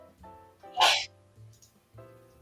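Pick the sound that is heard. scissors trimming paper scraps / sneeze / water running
sneeze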